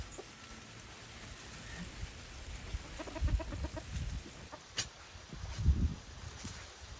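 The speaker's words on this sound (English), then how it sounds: "Oh, these chickens are having a good time." Chickens cluck and mutter around a garden bed, with soft intermittent clucks close by over a steady outdoor hiss and occasional rustling.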